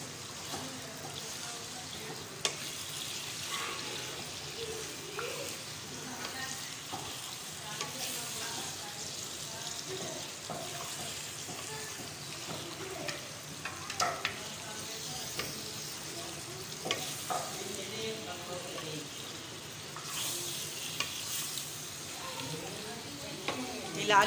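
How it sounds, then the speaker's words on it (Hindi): Goat liver frying in a pan with garlic ginger paste, a steady close sizzle broken by intermittent scraping and clinks of stirring, with faint speech in the background. "ये ऐड कर देंगे और भूनेंगे इसे अच्छी तरीके से"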